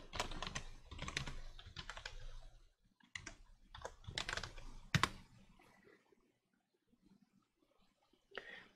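Clusters of quick computer keyboard keystrokes as a password is entered at a login screen, loud and close in dense bursts over the first few seconds, then sparser taps trailing off into near silence.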